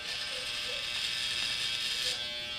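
Cordless hair trimmer cutting through a beard, a steady close buzzing whir with a faint gritty crackle of hair, continuous for a few seconds.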